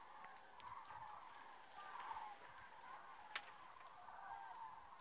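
Migrating cranes calling faintly overhead above a farm field, a few scattered distant honking calls over quiet open-air background hiss, with one sharper call near the end.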